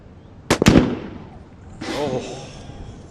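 Two sharp rifle reports in quick succession from a ladies' sniper team at the UAE SWAT Challenge, loud and close, echoing briefly before a voice comments afterward.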